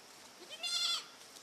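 A goat on a farm gives a single short bleat, fairly close and clear, over a quiet background.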